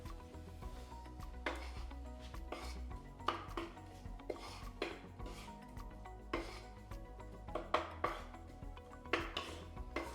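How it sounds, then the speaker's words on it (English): Onions and other vegetables sautéing with salt in a pan for a turkey meatloaf, a soft sizzle under repeated scraping and clattering strokes of a utensil against the pan, fairly quiet and steady. "sauteing our veggies beforehand"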